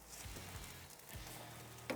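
Steak sizzling steadily on a hot grill during the finishing stage of a reverse sear, a soft, continuous frying hiss close by with faint low clanks underneath.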